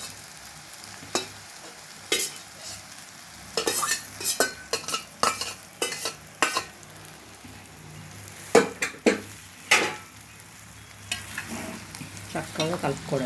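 Cooked rice with spring onion is stirred and fried in a pan: a low sizzle under repeated, irregular scraping and clinking strokes of a spoon against the metal, close by.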